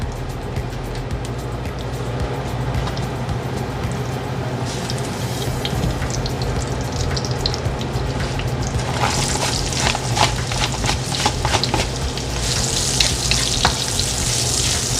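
Chopped onion and garlic sizzle steadily in hot oil in a pan while cooking yakisoba, a dense continuous frying hiss that grows louder and brighter partway through, with no talking.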